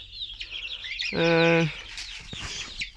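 Hens clucking inside a coop, with one loud, sustained harmonic call standing out midway over a steady background of chirps and scattered clucks from the flock.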